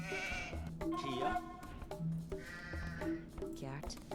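Sheep in the Age of Empires II Scottish campaign bleating in several wavering calls, close and clear, over someone talking quietly.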